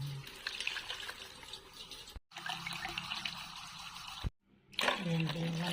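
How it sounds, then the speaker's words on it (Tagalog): Tap water running into a pot in two bursts, splashing and trickling, with brief pauses between and a voice talking faintly over it. "Dalawang basong tubig na naman pala ilalagay natin."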